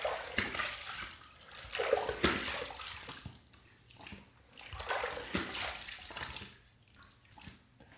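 Water running from a tap while rinsing after a shave, a continuous splashing flow that swells and fades as hands move through the stream, close and moderately loud.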